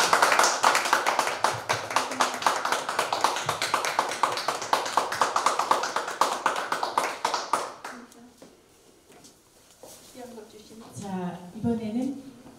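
Audience applause at a Korean poetry-recitation gathering and awards moment, dense rhythmic clapping for about eight seconds that fades out, followed by a speaking voice.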